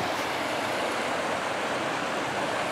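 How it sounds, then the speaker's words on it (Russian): The Urup, a southern river, flows with a steady, broadband rushing like a stream or small waterfall, loud and even, with no voices. "С этим мне поможет определиться родная сердцу южная река Уруб."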